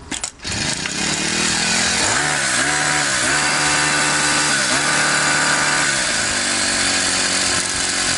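A four-stroke grass trimmer with a newly replaced carburetor idles loud and close after starting, with a steady droning engine note that shifts slightly in pitch.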